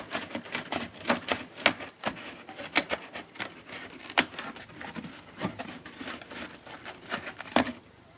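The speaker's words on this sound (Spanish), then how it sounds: "Ahora los cortamos con las tijeras" Scissors cutting through cardboard for a homemade incubator, a run of crisp crunching snips and tearing crackles in an uneven rhythm, close and clear with no talk.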